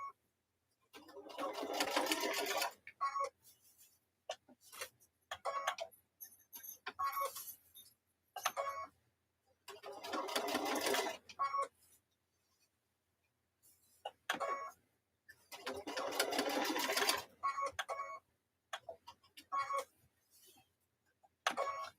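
A sewing machine stitching a pot holder runs in several bursts of rapid mechanical whirring and clatter, each a few seconds long, separated by quiet pauses, close and clear.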